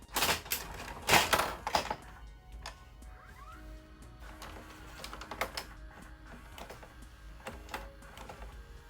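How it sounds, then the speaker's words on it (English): A VHS tape loads into a player mechanism with a burst of clunks and clacks, then softer whirring and scattered ticks as the mechanism engages, close and alone. "I want to just put a VHS tape in so we can kind of see what happens."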